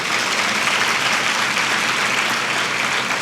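A large community gathering audience bursts into loud, dense applause that holds steady and sustained throughout, with no talk over it.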